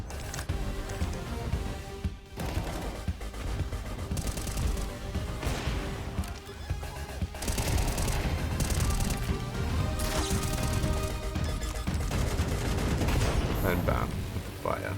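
Rapid bursts of gunfire in Counter-Strike 2, sharp cracks in quick volleys over busy game sounds, with someone talking excitedly throughout.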